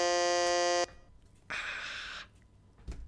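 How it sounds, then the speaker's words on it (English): A live quiz buzzer blares a loud, harmonic electronic tone for nearly a second and then cuts off abruptly, followed by a shorter burst of hissy noise and a quiet tail. "I'm going to turn the buzzer down a bit further."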